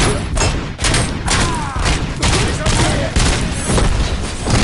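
Frag grenade blasts and sustained gunfire in the RoboCop: Rogue City shooter, loud and dense throughout with booming thuds and rapid volleys, voices shouting over the combat.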